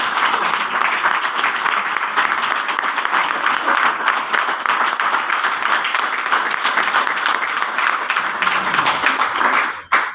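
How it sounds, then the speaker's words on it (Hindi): An audience at a health supplement talk claps together for about ten seconds, a loud, dense and sustained round of applause that cuts off abruptly near the end. "एक बार तालियां बजाइए अपने लिए।"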